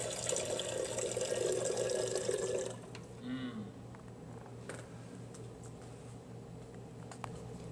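Oasis VersaFiller bottle filler on a P8AC-family water cooler running a steady stream of water into a bottle, a loud continuous rush that stops abruptly after a few seconds, leaving a quiet room hum.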